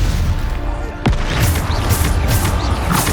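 Bombarda spell explosions from the video game Hogwarts Legacy: a sharp booming blast about a second in, then more muffled thumps and rumbling impacts over a busy, continuous combat din.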